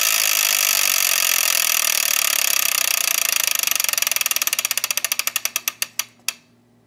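A Wheel of Fortune game-show wheel spins, its pegs clicking in a fast, steady rattle that gradually slows to widely spaced ticks before stopping, loud and close with no talking.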